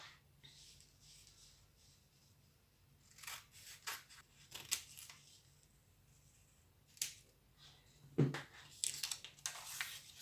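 Scissors cut through a paper blouse pattern in scattered, crisp snips and rustles, near and fairly quiet, with pauses between cuts and no talking.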